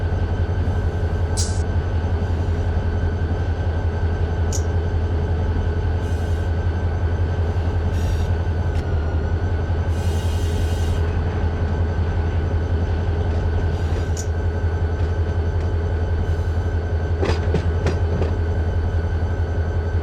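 A freight train in the video game Run 8 Train Simulator rumbles steadily past with a constant low drone and faint wheel clatter, no voices.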